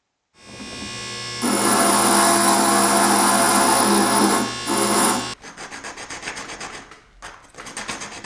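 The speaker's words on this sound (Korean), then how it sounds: "수동 연마독으로 열심히 갈아준다" Stained glass for a polar bear piece being ground by hand on a manual grinding stone, a loud steady rasping hum that holds for several seconds, then breaks into shorter uneven scraping strokes.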